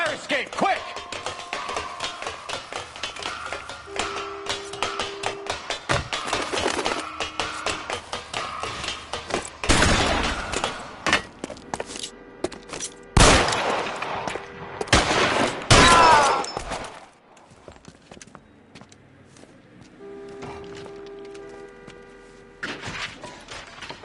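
Gunfire from a shootout in the video game L.A. Noire, with sharp loud bursts of shots scattered between game music and voices, the heaviest cluster arriving midway through.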